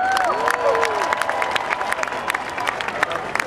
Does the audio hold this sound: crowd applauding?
yes